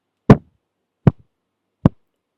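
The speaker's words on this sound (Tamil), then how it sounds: "இப்போ நான் அந்த மைக்கில் அடிக்கிறேன்" Three sharp thumps from a hand striking a microphone, spaced roughly evenly over two seconds, each a loud close dull knock that dies away quickly, with silence between.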